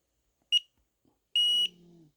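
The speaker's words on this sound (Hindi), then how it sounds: "ये लंबी बीप आ गई" A fingerprint gate lock gives a short electronic beep, then after a pause a long steady confirmation tone, followed by a brief low hum as it settles; close and clear with no talking.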